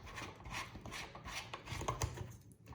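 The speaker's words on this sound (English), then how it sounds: "Where we are going to unscrew this." A part of a stand fan is unscrewed during assembly. Soft plastic ratcheting and rubbing clicks run close and faint, with a few sharper ticks partway through.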